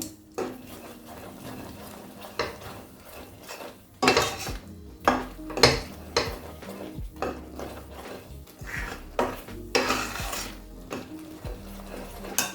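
A Mysore pak mixture of gram flour in oil is stirred steadily in a metal pan, giving repeated close scraping and clanking strokes at an irregular rhythm over a soft background hum.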